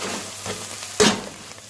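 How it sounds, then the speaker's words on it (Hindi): Salt, red chili and turmeric fry with garlic and ginger in a pan for mutton keema, a close steady sizzle with a sharp burst of crackling partway through as the spices are stirred. "ये देखिए हमने इसमें नमक मिर्च डाल के भून लिया"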